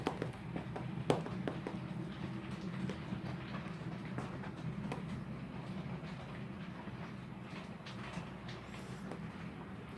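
Two model railway trains run on a small layout, producing a steady low rumble with faint clicking wheel taps over the track, distant and quiet throughout.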